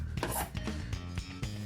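An acrylic plate for drypoint engraving is sanded by hand, a steady rasping scrub in short repeated strokes, close and fairly quiet with no voices.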